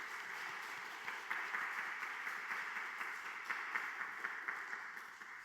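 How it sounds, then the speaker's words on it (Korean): A church congregation at a Wednesday worship service gives a steady, moderately distant round of thankful applause, an even wash of clapping sustained for several seconds with no speech over it. "우리 감사의 박수"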